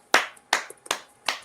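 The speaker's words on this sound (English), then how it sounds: "Clap it up." Four sharp hand claps in a steady, evenly spaced rhythm, close and fairly loud, each with a quick decay and nothing else between them.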